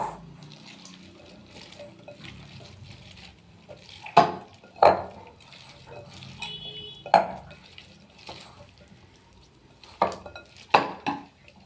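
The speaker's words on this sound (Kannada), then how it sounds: "ಇವಾಗ ಹೂಕೋಸ ಈರುಳ್ಳಿ ಹಾಕ್ಕೊಂಡು ನೀಟಾಗಿ ಕಲಿಸ್ಕೋಬೇಕು" Cauliflower florets and onion being mixed by hand in a bowl for gobi manchurian, soft wet squelching and rustling at low level, punctuated by several louder clanks of the bowl, with no talking.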